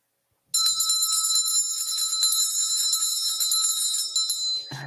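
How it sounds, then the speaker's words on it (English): A bell struck once and left ringing, a bright metallic tone that sounds suddenly after silence and sustains steadily for several seconds before cutting off. "Hit the bell, baby."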